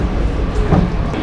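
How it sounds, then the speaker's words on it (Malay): Light rail train at Masjid Jamek station in Kuala Lumpur, a steady low rumble of the moving train close by, with a faint brief voice in the background. "Sekarang kita nak balik dah. Okey, kat sana LRT Masjid Jamek. Naik LRT pula."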